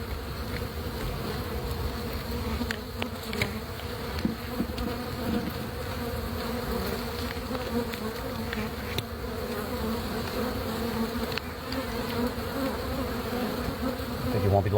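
Honeybees buzzing around a hive being cut out of house eaves, a steady droning hum of many insects close to the microphone, continuous with slight swells and a faint mechanical rattle underneath, no talking.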